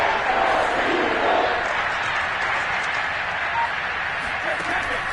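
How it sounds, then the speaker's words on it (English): Football stadium crowd at a Buccaneers vs Eagles game building up before a big third down, a dense, steady roar of cheering and noise that holds loud and unbroken throughout. "The crowd getting into it as we come up on a big third down."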